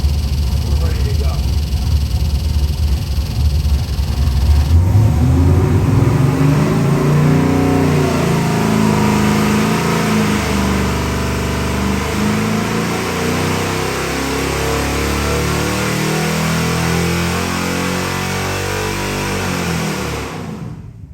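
A 540 cubic inch big-block Chevy performance crate engine in a 1971 Chevelle runs loud and close, rising from a rough idle into sustained revving with a deep, lumpy rumble before settling and cutting off at the end.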